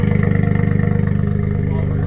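A Suzuki Cappuccino engine idles after repair, a close, steady rhythmic putter with even pulses that settles slightly toward the end.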